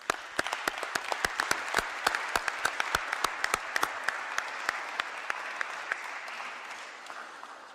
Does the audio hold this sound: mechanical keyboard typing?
no